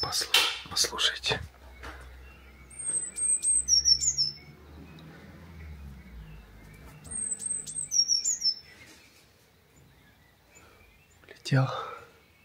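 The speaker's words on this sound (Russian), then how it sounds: "Птица. Да-да." Two bursts of high, repeated bird song phrases, a few seconds apart, over a quiet outdoor background with a brief voice near the start and end.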